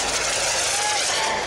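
A radio-controlled jet aircraft making a fast pass at an airshow in Westport, NY, a loud continuous high-pitched turbine whine and roar sweeping past close by, with an announcer's voice partly audible.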